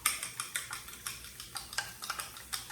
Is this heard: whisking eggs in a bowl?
yes